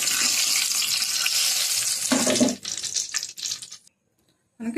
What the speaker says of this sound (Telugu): బజ్జీలు అయితే వేగిపోయి ఈసారి మనకి కలర్ వస్తే చాలు